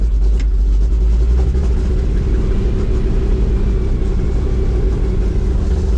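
A steady, low engine rumble from a 1986 Chevrolet K-20 pickup truck cruising, constant and close, with road noise and no talking.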